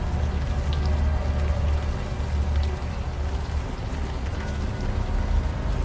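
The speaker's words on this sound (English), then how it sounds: "the warm rain is coming down" Steady, even rainfall in the video game Unavowed, a continuous dense patter with a low rumbling undertone, no voices.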